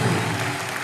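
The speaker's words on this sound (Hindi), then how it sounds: "एक बार सिद्धू पाजी के लिए जोरदार तालियां हो जाए।" A studio comedy show audience gives Sidhu loud, dense applause, a brief continuous burst of clapping with no talk over it.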